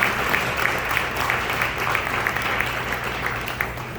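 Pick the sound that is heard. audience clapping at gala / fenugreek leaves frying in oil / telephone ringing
audience clapping at gala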